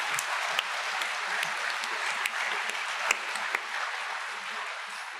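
An audience at a French panel discussion on real estate professionals applauds, a dense, even clapping with scattered sharper claps, fairly distant and steady throughout, without talk.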